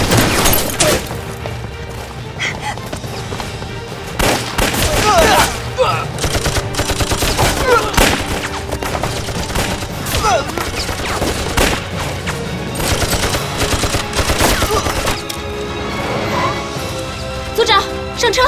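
Gunfire in a film battle scene of a Chinese anti-Japanese war action movie: loud, sustained bursts of rifle and machine-gun fire with crashes and booms, shouted voices mixed in throughout.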